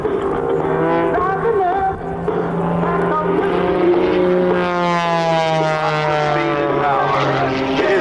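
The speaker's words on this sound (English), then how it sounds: "Extra 300S as he turns the aircraft around to the left side of the demonstration zone." An Extra 300S aerobatic propeller plane performs at a 1997 military air show at Quonset ANGB, its engine droning loudly and steadily, the pitch sliding up and down as it turns and maneuvers.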